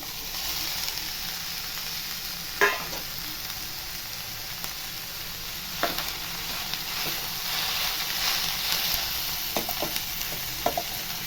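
Fish eggs fry with onions in a pan for bhurji, producing a steady soft sizzle broken by occasional sharp scrapes and taps of a stirring spoon, with no talking.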